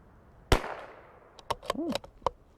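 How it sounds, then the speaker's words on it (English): A CZ 457 .22LR rifle fires SK Biathlon ammunition: one sharp, loud crack rings out and decays, then several quicker clicks and metallic clatter of the bolt follow, with a brief voice-like sound near the end. "Now we're shooting the SK BIATHLON."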